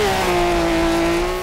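Car in Forza Horizon 2 taken through a corner with the handbrake, a loud steady engine drone with a slight pitch drop and a faint tire squeal, no talking.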